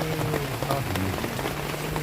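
Rain falls steadily on a surface, a dense, even patter of drops, with a low hum and faint voices beneath it.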